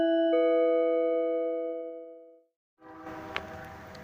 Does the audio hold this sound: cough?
no